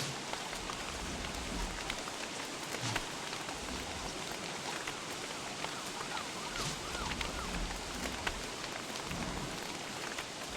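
Steady rain falling in the video game Don't Starve, a continuous broadband hiss with scattered droplet ticks, holding at an even level throughout with no talk over it.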